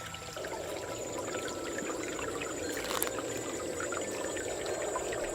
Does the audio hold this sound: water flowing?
yes